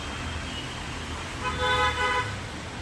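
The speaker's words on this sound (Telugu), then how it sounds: "చూడండి, ఈ కార్లు అంతా లైన్గా ఉన్నాయి." Mumbai road traffic hums in the background, and a car horn sounds briefly near the middle, moderately loud against the steady motor noise.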